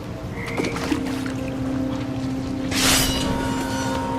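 Toads croak low in the dark labyrinth of What Remains of Edith Finch, set against a steady humming drone, with a brief hissing swell near the end.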